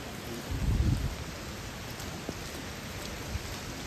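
Heavy monsoon rain falls steadily on a Mahuli fort trek, a dense, even hiss throughout, with a brief low rumble near the start and a few faint drips or knocks later.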